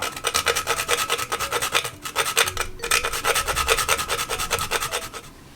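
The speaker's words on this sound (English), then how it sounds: "how much nutmeg should you put in how much you want." Steady rhythmic rasping as whole nutmeg is grated for homemade jackfruit punch, quick back-and-forth strokes repeating close and fairly loud with no talk, easing off at the end.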